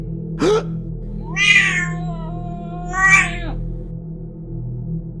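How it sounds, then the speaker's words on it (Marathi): A cat, just kicked, lets out a short cry, then two long, drawn-out yowls, loud and close, against a low steady hum. "त्या अनपेक्षित हल्ल्याने मांजर भिंतीकडे जाऊन पडली आणि ती पुन्हा उठेपर्यंत कुंदनने"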